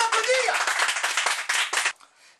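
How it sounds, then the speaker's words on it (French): Studio audience clapping on a French quiz-show parody, dense and loud for about two seconds with cheering voices mixed in, then cutting off into near silence. "on peut l'applaudir"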